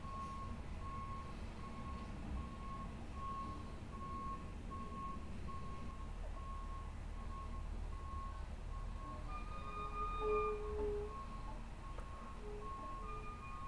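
Utility truck reversing at a power pole replacement site, steady rhythmic backup beeps repeating under a low engine rumble at moderate distance, continuing throughout with faint extra tones near the end.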